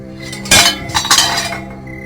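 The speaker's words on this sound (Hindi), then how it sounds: "जेवरात वाला बर्तन जैसे ही लेके चलता है तभी वो बर्तन गिर जाता" A pot full of gold jewellery falls and the metal pieces clink and clatter together in a loud burst, followed by a second scattering jingle that tapers off; no one speaks.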